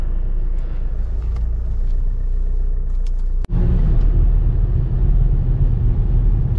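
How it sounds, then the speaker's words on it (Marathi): Tata Harrier SUV pulling out of a hotel parking area, a steady close engine and road rumble continuing throughout, broken by one sharp brief knock midway before the drive resumes slightly louder. "आता मी पार्किंगमध्ये आणि गाडी काढतो."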